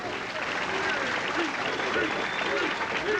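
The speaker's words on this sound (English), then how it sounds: "As the crowd starts yelling, Pete." Bowling crowd at a 1983 professional tournament final in Detroit cheers and applauds steadily throughout, a dense wash of clapping and voices under a commentator's talk.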